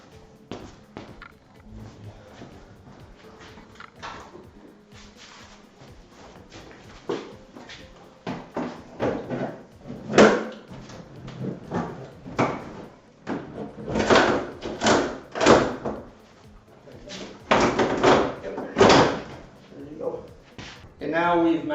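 A metal back pan goes into an automation panel with scattered clanks, sliding scrapes and knocks, some of them sharp and loud, close by. Speech runs through parts of it.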